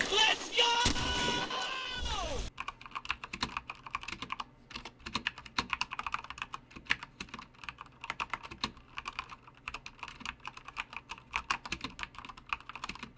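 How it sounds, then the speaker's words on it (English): Rapid crisp clicking from a Corsair K95 Platinum RGB XT mechanical keyboard with Cherry MX Blue switches, close and continuous typing in irregular bursts, after a short loud opening sound. "everyone in my streams can constantly hear the clicky keys being pressed"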